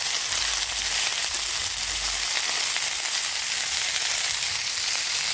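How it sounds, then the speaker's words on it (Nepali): Saag greens fry with browned garlic in a pan, giving a loud, even, continuous sizzle with a faint low rumble early on and no talking. "त्यसपछि मैले सागलाई पनि एकदम फ्राई गर्नु।"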